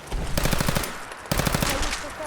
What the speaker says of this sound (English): I believe a sniper has found us.